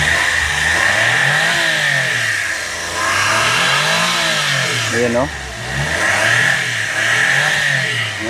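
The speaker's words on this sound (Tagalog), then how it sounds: "Ayan, ganda ng makina natin." A turbocharged 660cc inline three-cylinder fuel-injected camper van engine revs up and settles in repeated rising and falling sweeps, loud and close, with someone speaking briefly over it.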